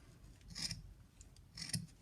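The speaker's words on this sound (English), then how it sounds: "Preferably with the scissors that are a little bit sharper." Two crisp scissor snips about a second apart, trimming yarn tassels, each a short metallic rasp of blades closing, close by and quiet.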